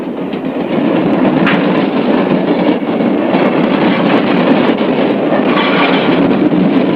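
A train rolls by on railway tracks, a loud sustained rumble of cars and wheels with faint rhythmic clacking, steady throughout with no voices.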